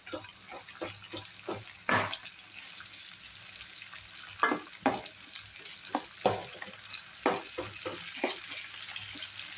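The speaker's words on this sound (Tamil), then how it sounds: "இப்போ பாருங்கள், எல்லாம் நல்லா எண்ணெயில் நல்லா வறுத்துடுது" Eggplant and mixed vegetable chips fry in hot oil, a crackling sizzle with frequent sharp pops and scraping stirs, close and fairly loud without speech.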